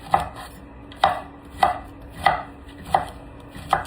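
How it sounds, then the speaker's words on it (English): A knife slices through a baby squash on a cutting board, six evenly spaced crisp chops about half a second apart, close and clear with no voices. "Then I found me a little baby squash. So I'm gonna give it a little cut."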